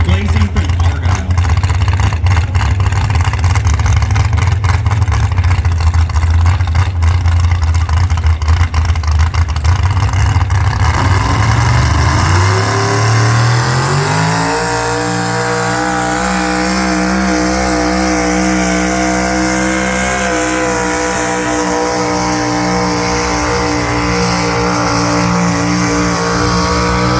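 Truck engine at a truck pull, loud and continuous, roaring steadily before settling into a sustained high revving drone that climbs in pitch; no pauses throughout.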